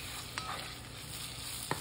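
Chili powder and garlic stir-fry in plenty of oil, making a quiet, even sizzle with two brief clinks from the pan, heard up close with no talking.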